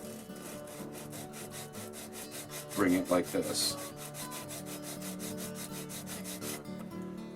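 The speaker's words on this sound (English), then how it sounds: "I'm just going to take this flat on the sanding stick here" Short rubbing strokes of sandpaper on a wooden model-railway station part held flat on a sanding stick, a few seconds of scraping over steady background music, with a voice speaking briefly.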